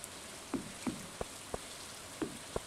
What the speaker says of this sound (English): It's a rainy day, it's not nice, so let's just do the ugly chores.